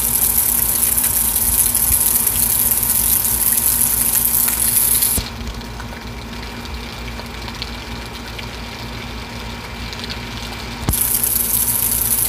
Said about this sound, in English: this thing is acting like a water fountain